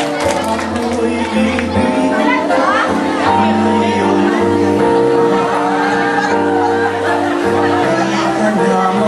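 A crowd chatters and shouts continuously over music, a dense, loud wash of many voices with occasional louder calls.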